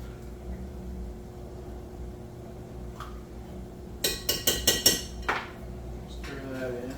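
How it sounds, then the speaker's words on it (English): A spoon works tomato paste into a cooking pot, giving a quick run of about six sharp metallic clinks and scrapes against the rim, close and fairly loud over a quiet kitchen hum. "Stir that in."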